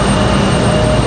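A regional jet, an E175 or CRJ, roars loudly and steadily at Raleigh-Durham airport. The engine gives a dense, unbroken rumble and hiss with no voices over it.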